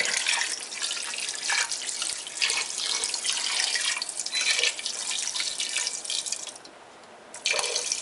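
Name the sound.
water being poured into a cooking pot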